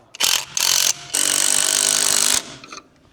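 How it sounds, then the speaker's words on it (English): A pneumatic nut gun runs up nuts on the underside of a Morris Marina GT in three loud, close bursts: two short ones, then a longer sustained whirr of about a second, followed by faint rattles. "get me nut gun and we'll just wind them on for a bit"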